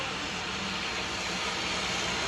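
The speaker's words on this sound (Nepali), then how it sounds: "हेलिकप्टर" A helicopter at an airport in Nepal gets ready to lift off. Its engine gives a constant whooshing roar with a hiss, steady and moderately loud for the whole stretch, with no clear speech.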